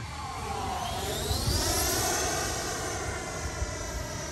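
A Freewing Avanti S V2 80mm EDF sport jet model passes overhead, its smooth ducted-fan whine rising and falling in pitch as it sweeps by at a distance, steady and fairly loud throughout.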